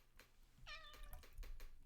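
A house cat gives a short, rising meow close to the microphone indoors, followed by quiet rustling and handling noises, with no talking.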